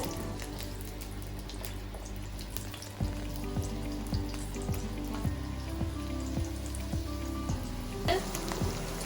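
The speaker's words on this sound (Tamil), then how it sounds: "இப்போ எண்ணெய் காய்ச்சதும் வெங்காயம் போடுறோம்." Onions frying in hot oil for chili chicken, a steady rain-like sizzle and crackle running throughout at moderate volume, with faint tonal music underneath.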